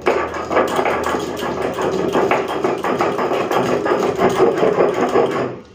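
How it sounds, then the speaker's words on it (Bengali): Steady, rhythmic scraping and knocking of a stone grinding white mustard seeds on a stone slab, close and continuous, with repeated strokes throughout. "এদিকে আমি সাদা সরষে শিলে নিয়ে নিয়েছি,"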